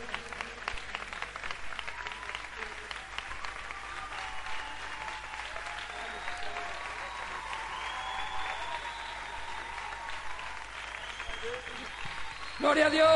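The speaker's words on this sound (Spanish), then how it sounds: "Voy a pedir a otro pastor, Rafa, den un aplauso." Church congregation applause, a long continuous wash of clapping heard at a moderate distance, with voices and singing mixed in and a sharp louder burst at the very end.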